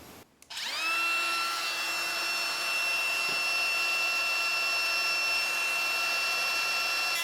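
A power drill bores a small hole into a 2x4 for a bird feeder, starting with a brief click, then a steady, loud whine that holds throughout with no talking.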